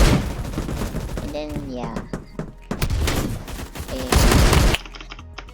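A semi-automatic Remington 870 shotgun fires in a video game, sharp loud bursts of shots in quick clusters, with someone talking briefly between them.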